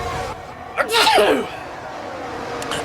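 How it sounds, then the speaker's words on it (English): A single loud sneeze bursts out close by, brief and sharp, then fades into quiet room sound during an F1 22 racing game session at Monaco. "I feel like I'm going to sneeze"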